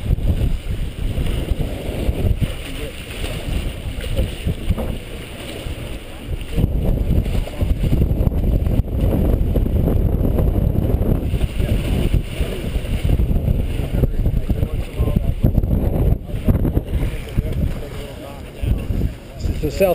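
A sailboat with a self-tacking jib moves under sail with its engine off on a sea trial. Steady, loud wind and water rush continues close by throughout.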